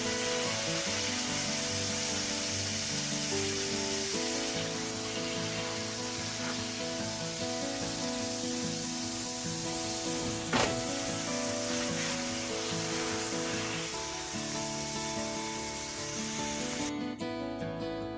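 Pot roast meat browning in a pan in its own fat with little added grease, a steady near sizzle and hiss with faint rubbing, continuous and alone.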